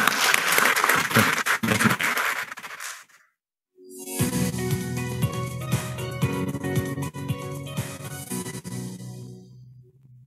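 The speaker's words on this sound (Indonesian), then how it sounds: "Mungkin kita perlu tepuk tangan sekali lagi teman-teman Perhubungan." Officials and guests at a ministry of transportation event clap together, a burst of applause that cuts off briefly before music-like tonal sound and renewed noise carry on.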